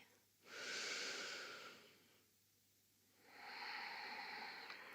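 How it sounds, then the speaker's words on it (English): Two slow, deep breaths during a yoga session, each a soft airy inhale or exhale lasting over a second with a quiet pause between, close and gentle with no talking. "Start to breathe a little more deeply."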